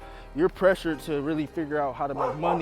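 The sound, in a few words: dog barking in the background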